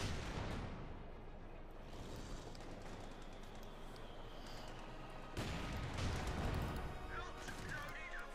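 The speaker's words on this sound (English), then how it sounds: "We're under fire from an MG42." Dense, continuous machine-gun fire from a German MG42 in the World War II strategy game Company of Heroes 2, with rapid bursts and heavy battle noise throughout and a louder stretch near the end. Speech from the game runs underneath.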